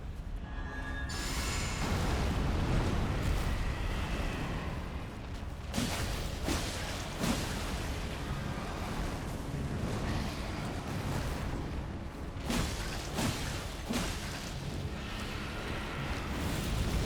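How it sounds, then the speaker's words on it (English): A big explosion in the video game Elden Ring: a loud, sustained rumbling roar that fills the whole stretch, with several sharper blasts breaking through partway along. "That's an early as frick explosion."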